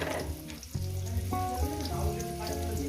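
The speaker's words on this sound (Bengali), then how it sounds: "প্রথমে দু মিনিট আলুটাকে ভেজে নেবো" Potatoes fry in oil for a Bengali poppy-seed curry, giving a steady close sizzle that runs the whole time beneath a layer of sustained musical tones.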